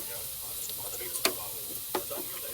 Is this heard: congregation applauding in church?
no